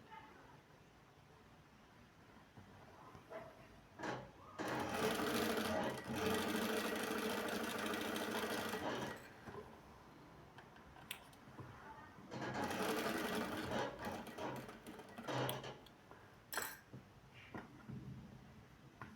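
A sewing machine stitching fabric patchwork blocks runs in two long, steady bursts of close motor whirring, with quiet pauses between them and a faint voice in the background.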